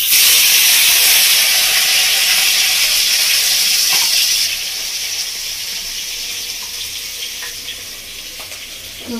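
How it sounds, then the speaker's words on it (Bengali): Fish fries in hot oil in a home kitchen for fish curry, a loud close hiss and sizzle that drops to a softer, steady crackle halfway through, with a few small clicks near the end. "মাছটা আরো একটু ভালো করে ভেজে নেব"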